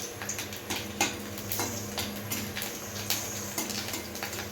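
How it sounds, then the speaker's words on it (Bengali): Garlic and a dried red chili frying in oil in a wok, a steady close crackling sizzle with light ticking pops throughout. "কড়াইতে তেল দিয়ে দিয়েছি, তেলের মধ্যে দিলাম রসুন আর একটা শুকনো লঙ্কা, এটাকে একটু লাল লাল করে"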